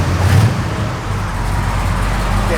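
A 1970 Dodge Challenger R/T with a rough cam idling, its low, lumpy exhaust rumble steady and close, swelling slightly near the start and then settling into an even loping idle, with no talk.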